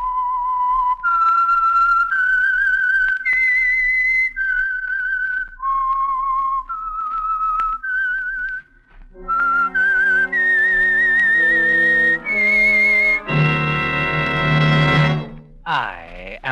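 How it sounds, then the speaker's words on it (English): A lone whistler performs the eerie theme of the Signal Oil radio mystery program The Whistler, a slow melody of clear sustained notes rising and falling, ending in a swelling orchestral chord. "the signal to listen for is this whistle that identifies the Signal Oil program, The Whistler"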